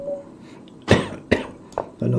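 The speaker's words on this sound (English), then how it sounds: "Ooh, a little bit of a cough." A person coughs several times in quick, sharp bursts close to the microphone during online chess commentary, with a bit of breathing and speech between.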